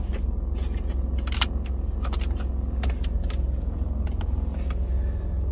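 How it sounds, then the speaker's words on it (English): A truck engine idles in reverse with no backup beeper, a steady low rumble running throughout with a few brief metallic clicks and jangles over it, close and alone. "the truck is in reverse. And there's no backup sound"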